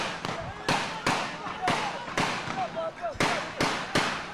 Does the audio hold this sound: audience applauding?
no